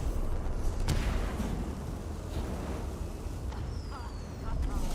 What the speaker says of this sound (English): That's what these fireworks are.